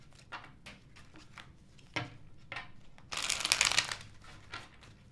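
Tarot cards are shuffled in soft riffling bursts, with a louder, denser flurry near the end, quiet and close with no talking.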